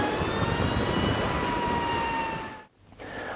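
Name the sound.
Lightning LS218 electric superbike accelerating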